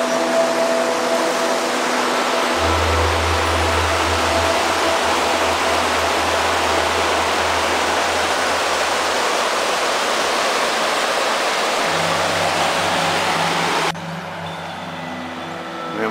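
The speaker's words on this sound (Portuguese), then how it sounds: "Vemos a cachoeira aqui do alto." A muddy, rain-swollen waterfall in Jordânia, Minas Gerais, viewed from high above, gives a broad, steady rushing roar that continues evenly throughout, with a low hum underneath.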